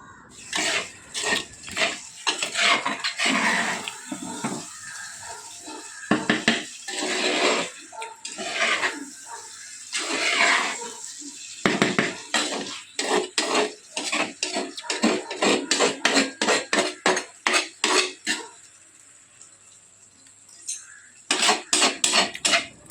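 A spoon scrapes and clatters repeatedly against a pan while fried tuna pickle is stirred, with bursts of rhythmic metallic knocking and brief pauses, close and fairly loud, without speech.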